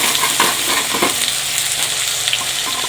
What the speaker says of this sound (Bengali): এই যে পেঁয়াজটা এবার দিয়ে দিতে হবে